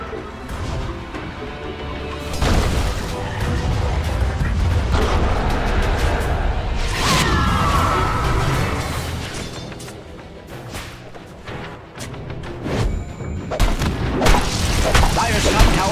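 Dota 2 battle at the Dire top tower, with repeated booming impacts, crashes and whooshing spell effects in dense, continuous layers, pausing briefly before resuming.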